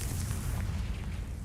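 A spell blast in the video game Hogwarts Legacy goes off as a single deep, rumbling explosion that fills the whole moment, loud and close with no voices over it.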